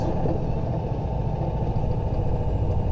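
Engine idling with a failing exhaust manifold gasket, a steady close rumble with faint irregular ticking and clatter running unbroken through the whole stretch, no voices.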